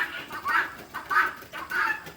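Chickens in a pen cluck in three evenly spaced bursts, close and moderately loud, with soft rustling between calls as they are chased and caught.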